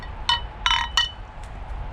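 Beer bottles of Stülpnerbräu and Freiberger clink together in a toast at an outdoor bivouac by an open fire, with three quick, bright clinks close by over a quiet background.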